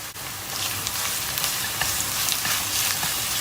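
Minced meat hits a hot pan with caramelized onions and sizzles loudly and steadily up close, with faint stirring scrapes and no voices.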